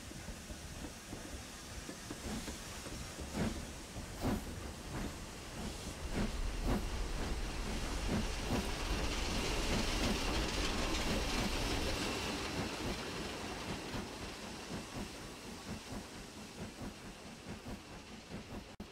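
A pair of steam locomotives double-heading a stopping train set off, with hissing steam and a rhythmic run of chuffs that swell and then fade as the train rolls along the rails, fairly faint and distant, no voices.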